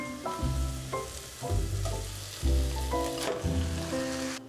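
Ground lamb dropped into a saucepan with translucent onions sizzles loudly and up close, the frying hiss swelling in several bursts as portions are added and stirred, with clattering from the pan and utensil.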